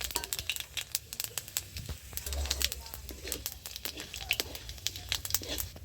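Five-spice, bay leaf and dried red chillies hit hot fish oil in a pan, giving a steady close crackle of sharp pops and spits that runs throughout at moderate level.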